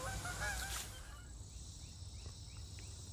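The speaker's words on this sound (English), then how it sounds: "Turkeys!" Birds honk and gobble loudly at the start, a cluster of nasal calls up close, then fade into quieter outdoor ambience with faint distant calls.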